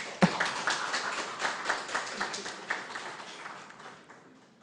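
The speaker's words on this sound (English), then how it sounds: "encourage the presenters with a resounding round of applause" An audience at a British Parliament style debate gives a brief round of applause for the presenters, a scattered patter of hand claps that tapers off within a few seconds.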